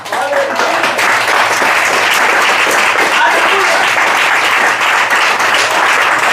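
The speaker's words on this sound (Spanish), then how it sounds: "Dale un fuerte aplauso." A church congregation breaks into loud, sustained applause during a sermon, a dense wash of clapping with faint voices mixed underneath.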